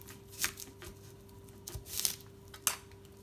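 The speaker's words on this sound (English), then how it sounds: "I'm going to use bridge hold over the top to cut my onion." A kitchen knife cuts through an onion held in a bridge hold, giving a few crisp, separate crunching chops spaced over a low steady hum, with no talking.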